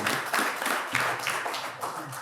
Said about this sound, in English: I'd like to take an opportunity to give a round of applause to the parents